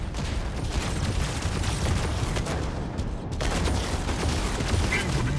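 Dense, continuous gunfire and explosions in the mech combat game Mech Arena during a 5v5 battle, a steady loud barrage that breaks briefly partway through and resumes.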